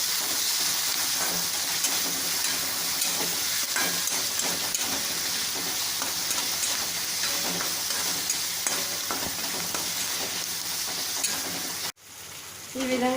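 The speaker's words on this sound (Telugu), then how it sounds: "ఈ టమాటా ఇందులో వేసేయాలి. ఇప్పుడు కొంచెం వేగేదాకా ఉంచాలి." Chopped tomato sizzles loudly in hot oil with onions, green chillies and curry leaves for a potato upma curry, a dense continuous frying hiss with occasional stirring scrapes, cutting off abruptly near the end.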